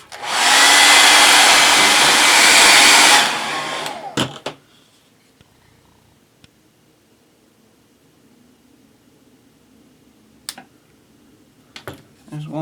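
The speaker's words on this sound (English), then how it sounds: "I am going to take these decals off using a hair dryer" A hair dryer used to heat and lift decals off a toy, blowing loud and steady for about three seconds before shutting off, followed by quiet handling clicks and a few brief knocks.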